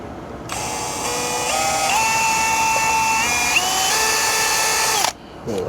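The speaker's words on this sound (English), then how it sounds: "So I'm gonna use this to drill my hole." A power drill whines loudly and steadily for about five seconds drilling pilot holes in the back of a box for dock lights, its pitch shifting slightly as it bites, then winds down to a stop.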